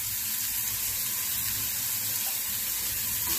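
An onion pakoda mixture sautéing in a pan gives off a steady, dense sizzle that holds at an even level throughout, with no voices.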